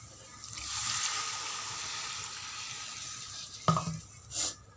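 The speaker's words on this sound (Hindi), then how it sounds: "अभी हमन इमा डालबो 2 गिलास के करीब पानी" About two glasses of water poured into a pan of dry-roasted spices for chole, a soft continuous splash and hiss, then a sharp clink of utensil on the pan and a brief stir.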